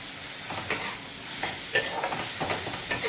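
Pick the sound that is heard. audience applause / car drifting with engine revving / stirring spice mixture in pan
stirring spice mixture in pan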